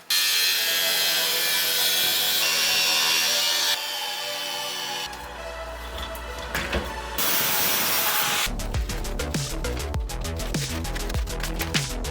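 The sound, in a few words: trimming truck trim along taped line for tire fitment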